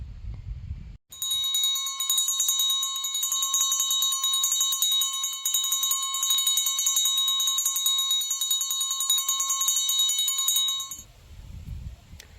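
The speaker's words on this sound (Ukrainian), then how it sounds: "коли наш перший дзвоник продзвонить." A school bell for the first day of classes rings loud and continuously for about ten seconds, a sustained metallic clangor with no talking over it.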